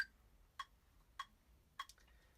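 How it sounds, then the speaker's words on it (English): A metronome ticks steadily at 100 beats per minute, four or five crisp, evenly spaced clicks in an otherwise quiet room. "So I have here a metronome, which is used to keep tempo in a song."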